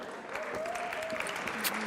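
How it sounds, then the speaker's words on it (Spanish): Audience applause at a Nerd Nite talk in Santiago, a steady wash of clapping from a crowd lasting the whole moment, fairly loud and even, with a faint voice-like tone briefly underneath. "Así que un aplauso."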